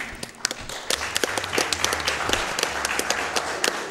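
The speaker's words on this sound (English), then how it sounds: "We can clap again." A small group claps steadily for a few seconds at a live speedrunning event, quick uneven hand claps close by.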